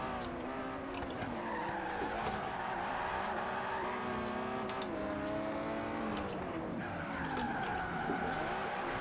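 Aston Martin Vantage GT12 race car in Forza Horizon 3, engine roaring loudly and continuously with shifting revs and repeated tire squeals and skids through corners.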